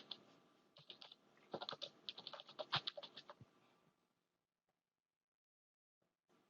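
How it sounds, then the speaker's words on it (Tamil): Close, quiet typing on a computer keyboard while entering an address into an online land application form, a quick burst of key presses for about four seconds followed by near silence and a couple of faint taps. "நிரந்தர முகவரியை டைப் பண்ணுங்க."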